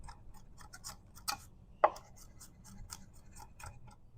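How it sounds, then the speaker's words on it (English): Knife chopping garlic with parsley and oregano on a cutting board, a series of quiet, irregular taps with one sharper knock partway through, alone and close. "Then we'll get this chopped up."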